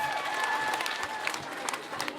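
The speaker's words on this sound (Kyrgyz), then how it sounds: "алакандарды бийик көтөрүп кол чаап коюңуздар туугандар" A crowd at a Kyrgyz concert claps steadily, a dense wash of applause with a voice faintly audible underneath.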